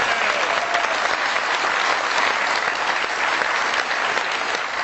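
Studio audience giving a long, sustained round of applause to welcome a guest, many hands clapping in a thick continuous roar that stays loud and even for several seconds.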